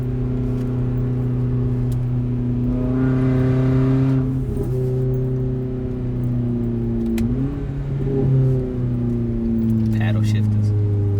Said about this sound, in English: Little exhaust clips from the inside.